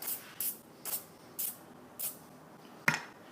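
Silicone spray misted onto a tire bead in short hissing bursts, five evenly spaced puffs followed by a sharper final spurt, close and fairly quiet with no talk.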